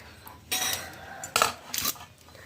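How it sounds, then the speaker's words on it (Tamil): Lemon rice being stirred in a pot with the stove switched off, three bursts of metal spoon scraping and clinking against the pot, close and clear with no speech. "இப்போ ஸ்டவ் ஆஃப் பண்ணிட்டு நம்ம சாப்பாடை கிண்டலாம்."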